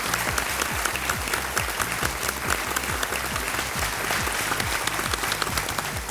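A studio audience on KBC applauds warmly and continuously, a dense, even wash of clapping close and loud throughout, with a low steady music bed beneath.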